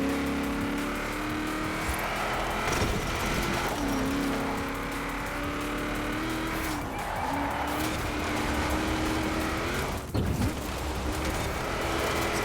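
V8 car engine in a racing video game on a dirt event, a continuous throaty growl that rises and falls with gear changes, with occasional tyre skids, sitting close and steady throughout.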